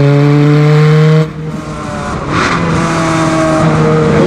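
Ferrari 430 Scuderia engine roaring loud and close, a steady high-revving harmonic drone that drops briefly as it shifts, then climbs again with a harder, raspier note.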